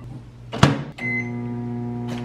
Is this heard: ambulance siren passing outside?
no